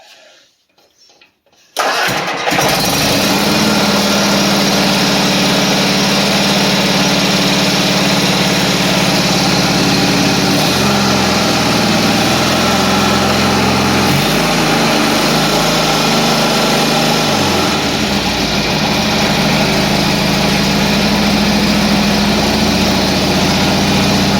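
Small engine of a 317 lawn tractor cranks briefly, then catches and runs loudly and steadily at close range, its tone shifting slightly as the speed changes.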